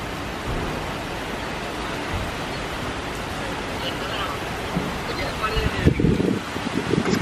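Steady roaring gusts of a wind storm fill the whole stretch, broadband and rushing, with a few sharper knocks and rattles near the end.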